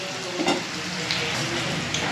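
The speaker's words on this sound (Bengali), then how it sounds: "এটা আলু দিয়ে পেঁয়াজ দিয়ে ভাজা বসিয়েছি।" Potatoes and onions fry in a pan with a steady soft sizzle and a few scraping stirs, close and quiet, no talking.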